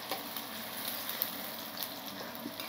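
Chopped onions sizzling in hot oil in a pan for a chicken curry, a steady bright crackling fry with small pops, close and even, no voices.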